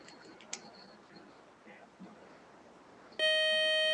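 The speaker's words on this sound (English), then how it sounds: "that buzzer is the end of our game" A game show buzzer sounds at the end of a quiz game, a loud sustained electronic tone starting suddenly after a few seconds of faint room noise and quiet sounds.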